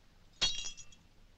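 A single drinking glass shatters with a sharp, bright crash and a few tinkling fragments after it, fairly quiet and isolated in a 1946 film scene.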